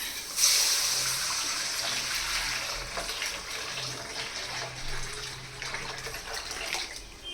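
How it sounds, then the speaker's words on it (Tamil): Water pours and splashes steadily for several seconds, a continuous rushing gush close by. "தண்ணி எடுத்து ஊற்றிடலாம்"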